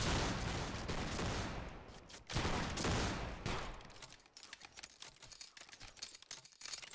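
Musket line volleys in the video game Battlegrounds II, with dense crackling bursts of gunfire loud at first, then thinning into scattered, more distant shots and rattles.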